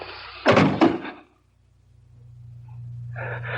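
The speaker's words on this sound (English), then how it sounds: "I'm going to close this door." A door swings shut with two heavy thuds in quick succession, then a quiet low hum settles in the room before faint voices start at the end.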